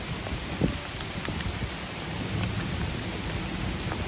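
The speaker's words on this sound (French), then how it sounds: "Il commence à pleuvoir, il fait toujours aussi froid" Rain starting in Melbourne, Australia, patters on a surface in a soft, continuous hiss with scattered louder drops and a low rumble underneath.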